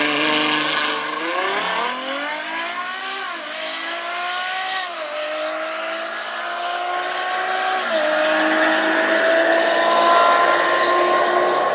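A Ferrari F12 Berlinetta launches hard on launch control, its V12 exhaust roaring loud and close as it climbs through rising revs with several gear changes, the tone dropping at each shift before climbing again, no talking.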